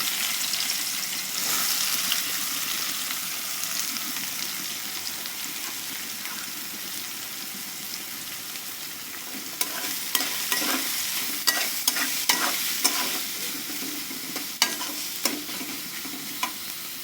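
Chopped onions fry and get stirred in a pan for egg masala, a steady sizzle running throughout with sharper scraping and stirring clicks in the second half, close and alone with no voices.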